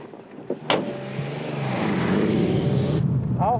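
A 270 hp Porsche Turbo on a race track: after a couple of brief clicks, a loud engine drone builds and holds steady, close and unbroken, ending with a short rising tonal sweep.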